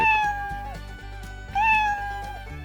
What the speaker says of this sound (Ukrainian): Мяу-мяу, говорить котик.